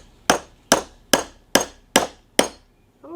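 A hammer taps a retaining clip on the power steering pump of a 2004 GMC Envoy, six sharp metallic strikes evenly spaced and close, ringing briefly after each hit.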